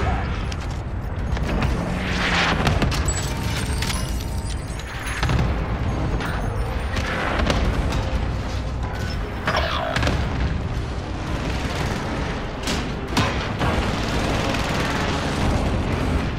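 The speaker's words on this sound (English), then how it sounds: "Cluster strike. i throw it up above us." Cluster strike explosions in a Call of Duty Modern Warfare Plunder match, heavy booms and bursts rolling on and off for the whole stretch, loud and dense with mechanical rattles mixed in.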